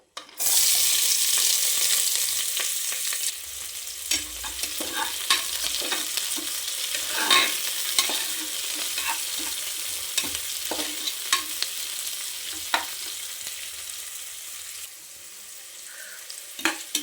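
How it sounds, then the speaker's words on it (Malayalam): Sliced onions and green chilies fry and hiss steadily in hot oil in a pan for vegetable biryani, with intermittent stirring scrapes and small spatters throughout. "നമുക്ക് അരിഞ്ഞു വെച്ച ഉള്ളിയും പച്ചമുളകും ഇട്ട് കൊടുക്കാം"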